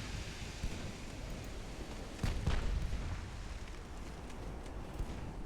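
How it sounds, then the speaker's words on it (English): A ship's ammunition magazine detonating in Ultimate Admiral: Dreadnoughts, a sudden burst that flares up partway through over a steady background of distant battle rumble. "Ooh, an ammo explosion turns the tide."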